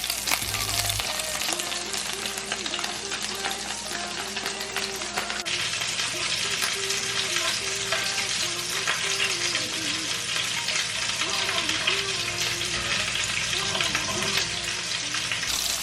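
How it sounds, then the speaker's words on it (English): Meatballs frying in a pan over medium-high to high heat, a dense and continuous close sizzle that holds steady throughout, with a few faint clinks and no one speaking. "I like to cook the meatballs on medium, high to high heat"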